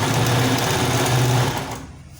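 A sewing machine stitching an elastic band onto a sleeve, running in a fast, steady, close mechanical whir for about two seconds before slowing and stopping.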